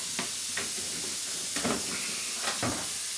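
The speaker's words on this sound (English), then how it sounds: "That lovely sizzle." A constant bright hiss of meat sizzling in a hot pan for American goulash, with a few soft clinks and scrapes of stirring on top.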